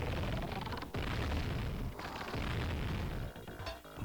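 Dense, booming gunfire blasts from the Sega Mega Drive game Robocop Versus The Terminator, loud and nearly continuous with a few brief gaps.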